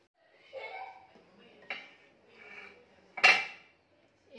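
A lid set on a cooking pot of coconut-milk vegetable soup, a sharp metallic clack near the end following softer clinks of kitchenware, with quiet voices in between.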